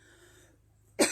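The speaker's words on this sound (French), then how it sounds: "de pousser une toux" A single short, sharp cough is pushed out during a chakra energy dance exercise, sounding abruptly after a quiet, faintly humming pause.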